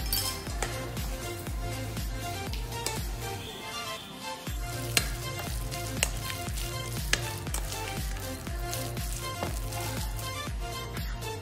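Garlic frying and being stirred in a pan with salt and pepper, a steady loud sizzle throughout with occasional clinks of the utensil against the pan and a brief dip partway through.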